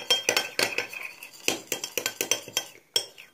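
A spoon stirs a borax-free slime mixture in a bowl, giving close, uneven clinks and scrapes in quick bursts, with a short pause near the end. No one speaks.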